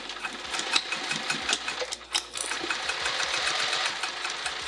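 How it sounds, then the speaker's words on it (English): A sewing machine stitches vinyl for a bag close by, its rapid mechanical stitching chatter steady, with a brief pause midway before it picks up again. "Let's go to the sewing machine."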